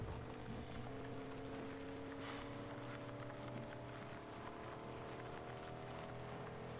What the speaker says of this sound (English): You can hear the engine struggling for its dear life.